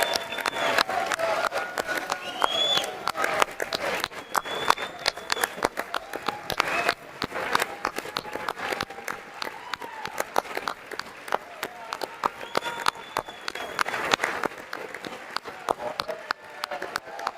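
Applause fills the chamber of Congress during a Trump address, a dense continuous patter of many hands clapping at moderate distance, going on steadily with scattered voices in the room.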